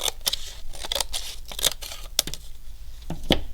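Scissors snipping through a paper model to cut it in half, a quick run of crisp, close cuts and paper crinkles in an irregular rhythm, with no talking.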